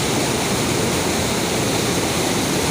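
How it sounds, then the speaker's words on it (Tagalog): Flash flood water in La Union rushing after dam water was released, heard as a loud, steady broadband roar of churning water with no break. "Grabe yung baha na yan,"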